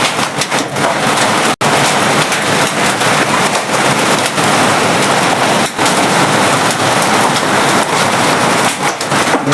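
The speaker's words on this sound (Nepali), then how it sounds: "आकाश दिए असिना झरी यार असिना उयो त्यहाँ झऱ्यो" Hail falls on a tin roof in a loud, dense, continuous clatter that roars throughout with brief dips.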